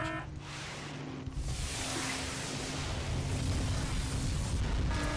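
A big bomb detonates in the arcade-style game Missile Command on the Amico console, a sustained rumbling boom that fills the whole stretch at steady loudness without any voices.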